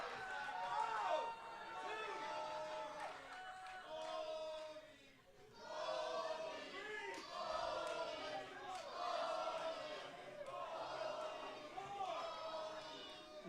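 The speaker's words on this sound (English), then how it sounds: "Someone in the crowd had something interesting to say that riled the crowd up." Crowd at a Turkey Slam 2023 wrestling event, riled up and shouting in waves, loud mixed voices and cheers filling the space with a brief dip midway before surging again.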